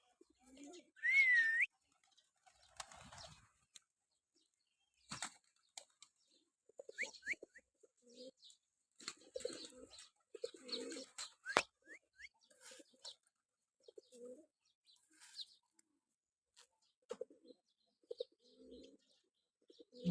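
Jalali pigeons cooing on a small pigeon farm, soft scattered coos and short chirps in quiet surroundings, coming in irregular bursts with pauses between, fairly close by.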